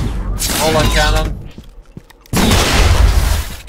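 Cannon firing in a multiplayer shooter video game, two heavy booming bursts separated by a brief lull of smaller pops, loud and close, with a voice talking over the first burst.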